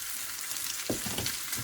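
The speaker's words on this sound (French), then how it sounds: "Quand le beurre est fondu, je commence à mettre mes pains perdus." French toast slices being laid into melted butter in a pan, a soft steady sizzle with a sharper hiss as a slice goes in partway through, close and fairly loud.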